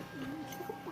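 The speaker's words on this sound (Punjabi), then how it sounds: "ਕਬੂਤਰ ਵੇਖ ਇਹ ਕਬੂਤਰ" Pigeon cooing at close range, a rare large show breed kept by a fancier, giving a soft low warbling coo that rises and falls over a brief moment with faint background murmur.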